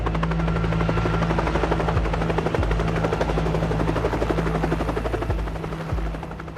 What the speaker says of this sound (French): T'entends l'hélicoptère qui approche?